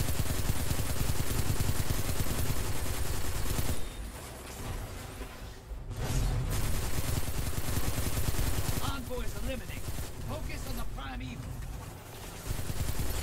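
Sustained automatic gunfire in Destiny 2's Gambit mode rattles loudly and near, pausing briefly before resuming, with players' voices talking over the shooting.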